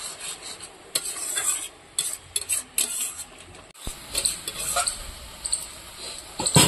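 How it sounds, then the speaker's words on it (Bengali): A spatula presses and breaks up potato in a cooking pan for a village-style vegetable dish, giving soft scraping, squishing strokes and clinks against the pan over a light sizzle, with brief pauses between bursts. "এখন আমি এই খুন্তি দিয়ে আলুটা একটু চেপে ভেঙে দেব যাতে আঠা আঠা ভাবটা চলে আসে।"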